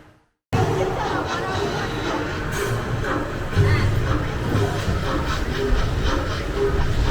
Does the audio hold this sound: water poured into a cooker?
no